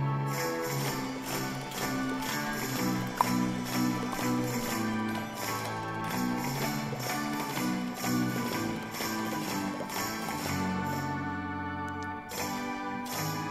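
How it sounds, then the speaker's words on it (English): Wood blocks run through a tape delay mix with real mouth pops in a dense, steady arrangement, the percussive clicks sitting inside a full layered instrumental bed with no voices. "The wood blocks going through the tape delay, but there's also real mouth pops."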